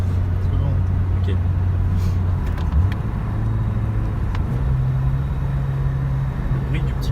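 A BMW E30 318i's naturally aspirated 1.8-litre four-cylinder engine idles and revs steadily with a low drone, close and continuous for several seconds.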